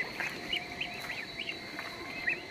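Ducks on water give faint, repeated short quacks at an irregular pace, heard from a distance over a steady low hum.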